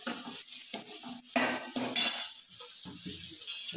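Masala spices frying and sizzling in a kadhai for pav bhaji, a steady hiss with a spoon scraping and stirring against the pan, close and fairly quiet, no talk.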